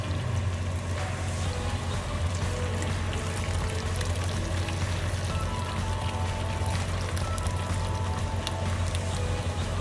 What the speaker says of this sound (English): you want to add your beef ribs into a pot and cook them for about 10 minutes in hot water